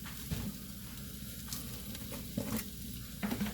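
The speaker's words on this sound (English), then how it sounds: "Stir these around." Ingredients for a cream of mushroom and bacon soup sizzle softly in a pan, with a faint, even frying hiss broken by a few brief stirring scrapes, no talking.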